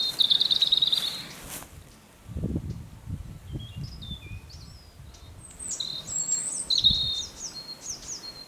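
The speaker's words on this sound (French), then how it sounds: "Il y a pas mal d'oiseaux aussi." Outdoor birdsong: faint high chirps and short warbling calls scattered through a quiet rural backdrop, with soft low rustling and crackling noises and occasional insect-like buzz.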